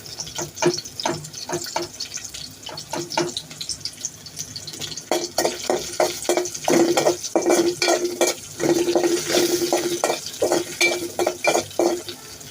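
Chopped onion and salt going into a hot pan, with steady sizzling frying and repeated scraping stirs from a spoon against the pan, loud and close, with faint talk at times.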